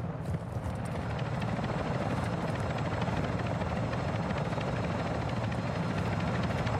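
A helicopter in Call of Duty Modern Warfare II whirs loudly and continuously through the whole stretch, a dense rotor roar with no voices over it.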